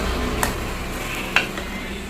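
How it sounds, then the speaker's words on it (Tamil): Tomatoes frying in a pan for mutton curry while being stirred: a soft, steady sizzle broken by two sharp scrapes of the spoon against the pan. "ஒரு ஆள் வந்து கிண்டிக்கிட்டு இருக்காங்க தக்காளி இன்னும் வதங்கலை"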